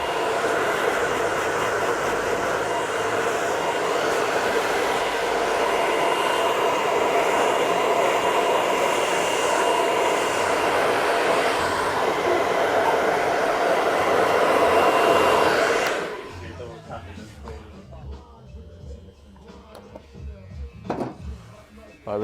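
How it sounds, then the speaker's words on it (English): A hair dryer blows steadily and loudly for about sixteen seconds while a combed-back men's haircut with a middle part is styled, then cuts off, leaving quieter handling sounds. "then we're going to blow dry that into the shape that we want it."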